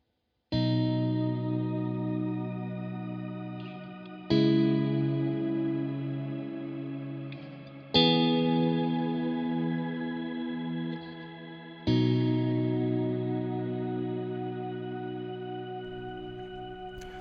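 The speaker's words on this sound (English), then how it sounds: "It has that reverb sound and the shimmer sound going at the same time" Sustained electric guitar chords through a Neunaber Stereo Wet shimmer reverb pedal, four strums each ringing out with a lush, shimmering reverb wash and chorus-like sparkle, played alone.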